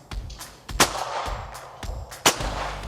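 Rifle cartridges fired at targets on an outdoor range: a few sharp, loud reports spaced about a second or more apart, each with a short booming tail, over a rumbling background.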